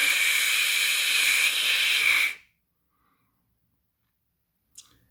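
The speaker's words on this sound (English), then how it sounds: "he came slowly forward, whooshing steam with his cylinders" A steam locomotive whooshing steam from its cylinders, a loud steady hiss lasting about two seconds that fades out into silence, followed by a faint brief sound.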